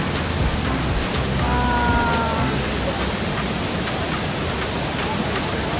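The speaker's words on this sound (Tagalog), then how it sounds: "Here's the Niagara Falls." Niagara Falls roars as a steady, broad wash of rushing water, heard from a viewing spot near the falls, with faint sounds of the crowd and a brief tonal whine partway through.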